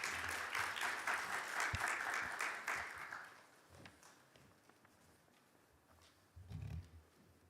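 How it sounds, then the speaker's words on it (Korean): A church audience applauds to welcome a deacon coming forward to give a testimony at a Bible-study gathering. The clapping is fairly loud for about three seconds, then thins into scattered claps and room noise, with a brief thump near the end. "나오실 때 큰 박수로 환영해 주십시오."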